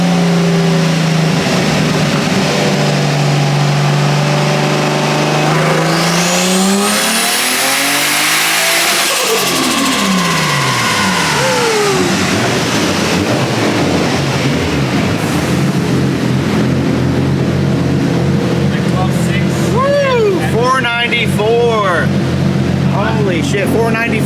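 A turbocharged Toyota 2JZ engine on high boost revs hard and loud, climbing to a screaming peak, dropping off, then building again, with voices talking over the steady roar.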